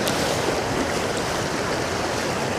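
The River Test in Hampshire rushes around a sharp bend in a steady, dense wash of water noise, close and fairly loud, with no breaks and no voices.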